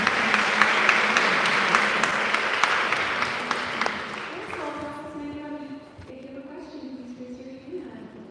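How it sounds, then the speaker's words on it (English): An audience at a book talk for the novel Blue Sisters claps in a full round of applause that fades after about four seconds, followed by a voice speaking. "we can give a round of applause"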